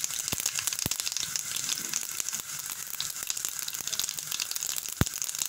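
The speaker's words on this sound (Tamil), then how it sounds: "சீரகம் வெடிச்சிருச்சு." Hot oil sizzling steadily with irregular crackles and a few sharp pops from cumin seeds bursting.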